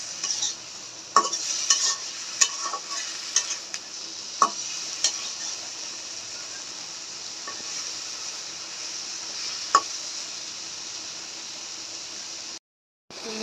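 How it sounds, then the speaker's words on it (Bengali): Shrimp frying with spices in a pan for prawn pulao: a continuous close hiss of sizzling oil, punctuated by a few sharp clicks and taps of a utensil against the pan, with no voices. "সব মশলা দিয়ে মাছটি ভালো করে ভেজে নিব।"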